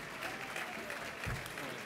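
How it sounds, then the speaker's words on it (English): Steady applause from a crowd at a UMass Boston gala, many hands clapping at once in a dense, continuous patter that holds level throughout. "Let's give him a warm round of applause"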